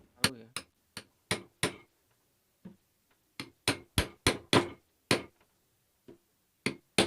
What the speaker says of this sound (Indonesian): Kita ketok pakai palu ya.